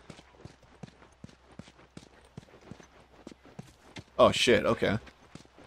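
Horse hooves clip-clop at an even walking pace in The Last of Us video game, a series of crisp, regular hoofbeats, with a man briefly exclaiming near the end.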